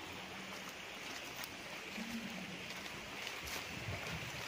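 A stream flowing through a farm lot in Liliw, Laguna, a soft continuous rush of water at low level, steady and unbroken with no voices.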